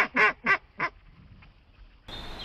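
Three loud, nasal duck quacks in quick succession, then a quiet pause before a hiss of outdoor noise rises.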